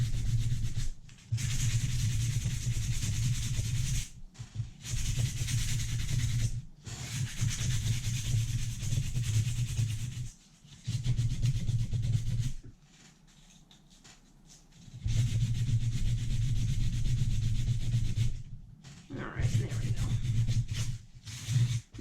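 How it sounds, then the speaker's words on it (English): Sandpaper rubbing down a puckered bump on a garden figurine under restoration, in long steady scraping strokes with brief pauses between passes, close and fairly loud. "I'm going to sand that down."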